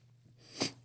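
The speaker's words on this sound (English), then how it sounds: "I'm going to sneeze." A single sharp sneeze bursts out after a quiet moment, short and close, over a low steady hum.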